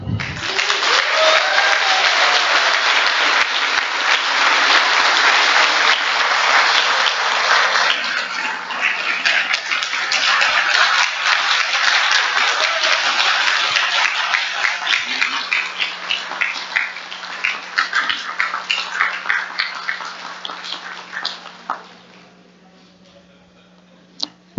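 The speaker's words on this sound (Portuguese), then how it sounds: "convidados presentes, para uma salva de palmas" Audience applause at an academy induction and diploma ceremony, a long, loud wash of clapping from a seated crowd that holds steady, then breaks into scattered claps and fades away.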